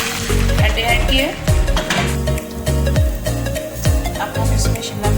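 Eggs frying in hot oil in a pan over a medium flame for a cheese omelette, a steady loud sizzle with scraping and stirring clatter, under background music.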